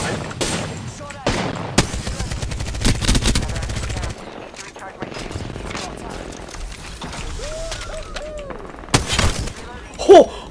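Video game firefight with bursts of automatic gunfire and sharp sniper cracks, loud and close, alternating with quieter stretches while people talk over the action.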